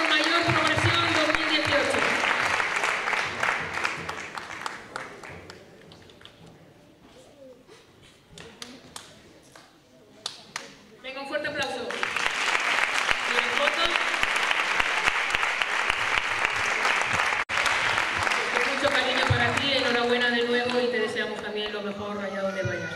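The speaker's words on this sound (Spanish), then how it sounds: "Un fuerte aplauso para él" An audience at a sports awards gala applauds loudly as an athlete comes up to the stage. The dense clapping dips into a quieter patch, then swells again. An announcer's voice speaks over parts of it.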